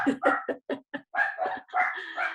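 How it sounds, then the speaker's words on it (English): Several dogs bark in quick bursts, loud and close, overlapping into a busy, yappy chorus. "I can't hear a thing because they're barking"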